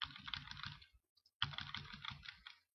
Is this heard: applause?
no